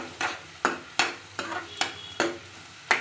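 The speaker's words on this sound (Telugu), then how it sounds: "ఒకసారి మొత్తం కలిసేలాగా గరిటతో కదుపుకుందాం. ఇలా ఈ ఉల్లిపాయ ముక్కలు కదుపుకుంటూ ఉండాలి కొంచెం వేగేంత వరకు" Onion pieces and turmeric frying in a pan are stirred with a ladle, giving seven evenly spaced scraping strokes over a faint sizzle, close and clear with no talking.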